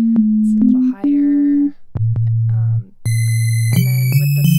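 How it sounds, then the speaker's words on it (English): Pure sine tones from the Vital software synthesizer, held steady notes that step between pitches with a few brief clicks, loud and alone with no talking. "You can hear what just a sine wave sounds like."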